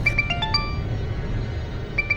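A phone rings with a short electronic melody of repeated bright tones, pausing, then starting again, over low background noise.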